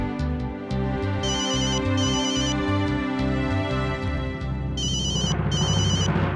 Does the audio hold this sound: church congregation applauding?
no